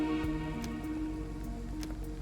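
Steady rainfall in the video game Endzone – A World Apart, a continuous hiss with scattered droplet taps over a low musical drone, no voices.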